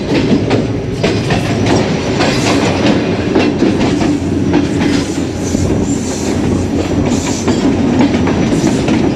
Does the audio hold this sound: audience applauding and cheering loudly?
no